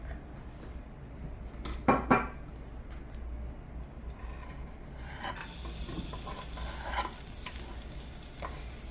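Garlic drops into hot olive oil in a pan, giving a steady sizzle and frying crackle with two sharp clinks of a utensil early on, then a brighter, fuller hiss as the garlic hits the oil.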